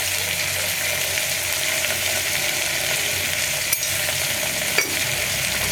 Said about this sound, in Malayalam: ഇനി ഇതെല്ലാം ചേർത്ത് നന്നായിട്ട് ഒന്ന് ഇളക്കി കൊടുക്കുക.